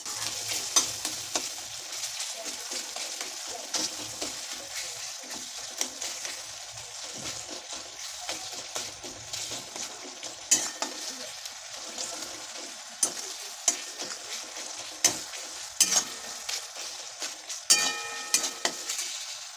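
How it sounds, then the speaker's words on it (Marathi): A spatula mashes and stirs soft cooked tomatoes in a hot pan while they sizzle, with repeated scraping strokes against the metal and no talking. "टोमॅटो चांगले शिजले आणि नरम पण झालेले आहेत. हे बघा, लगेच असे उलथणीने कुस्करल्या जात आहे."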